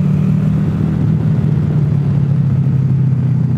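Sport bike cruising along a fun road on a cold day, its engine a steady, loud low rumble held at an even pitch with constant wind noise throughout and no talk.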